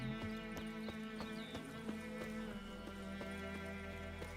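A horse's hooves gallop in a quick, regular rhythm in the video game The Witcher 3, under a steady low hum and layered game-like background tones, the beats sharp and evenly spaced.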